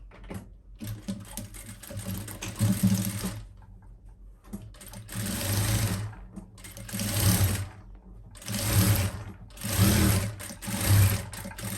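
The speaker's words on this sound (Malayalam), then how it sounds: "ഇങ്ങനെ അങ്ങോട്ടൊരു 1/4 ഇഞ്ചിൽ തയ്ക്കാം കേട്ടോ" A sewing machine stitches a folded hem at a quarter-inch seam, running in loud, close bursts of rapid mechanical whirring separated by short pauses, with no talking.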